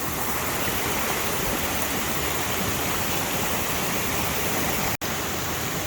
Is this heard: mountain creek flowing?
yes